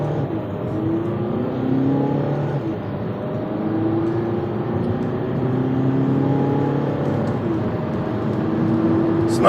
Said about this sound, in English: 2009 Jetta TDI 0 to 60. I'm going to have to wait a minute here. I'm just going to punch it right from here.